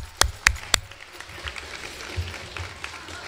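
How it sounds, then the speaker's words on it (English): Attendees at a school award ceremony applaud, starting with a few sharp, loud nearby claps and then settling into a softer, diffuse round of clapping from the room. "a round of applause for the Excellence in Education and UIL"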